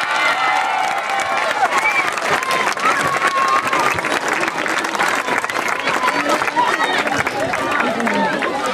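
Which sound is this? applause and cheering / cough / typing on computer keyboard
applause and cheering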